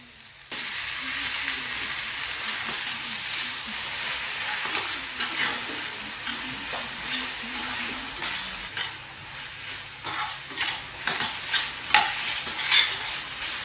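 Spinach leaves with onions, garlic and ginger paste fry in a pan, giving a steady close sizzle broken by repeated scraping strokes of a stirring spoon.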